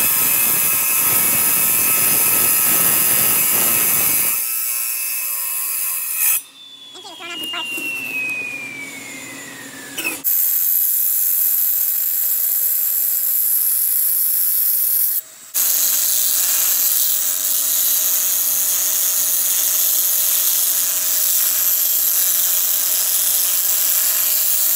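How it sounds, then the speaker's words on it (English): MK tile saw slicing into a Colorado geode: loud sustained motor whine and grinding, with a falling pitch as the blade spins down, a brief pause, then the saw running steadily again near the microphone. "I say we try MK. Tile saw."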